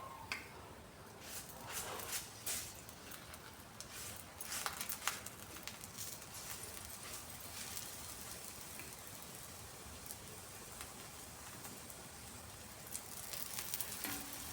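Ghee-brushed mooli paratha sizzles on a hot griddle, a steady close crackle with scattered louder pops and brief scraping touches throughout.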